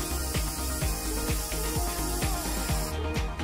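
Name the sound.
waterproofing silicone spray sprayed onto sand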